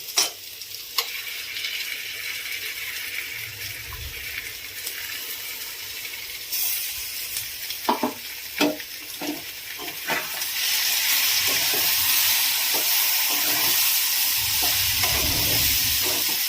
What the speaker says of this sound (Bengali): ওলটা একটু নাড়াচাড়া করে নিয়ে ধনে, জিরে, হলুদ, লঙ্কা সব মশলাগুলো দিয়ে কষিয়ে নেব